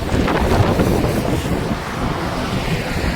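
Strong wind in Odisha buffets the microphone in a steady low roar with gusty rumbling, loud and continuous, no voices.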